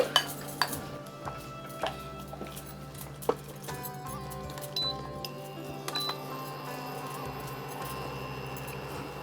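A metal frying pan is set down on a home kitchen stove while preparing Bengali poppy-seed fritters, with faint clinks, scrapes and light utensil knocks scattered through a quiet room.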